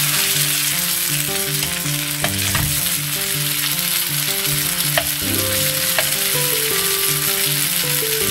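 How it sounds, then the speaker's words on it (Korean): Jjondeugi, a chewy Korean snack, deep-fries in oil with a loud, steady sizzle and scattered sharp crackles and pops throughout, with no talking. "그리고 쫀득이를 넣어서 튀겨준다."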